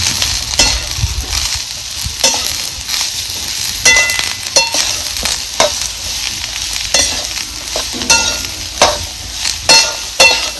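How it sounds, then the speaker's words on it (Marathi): Chopped ivy gourd (tondli) stir-fried with spices in a pan, a loud sizzle broken by repeated scraping and stirring strokes of a spatula, close by and with no talking. "तर आता ही ह्याच्यात सोडून घेते आणि चांगली परतून घेते ही."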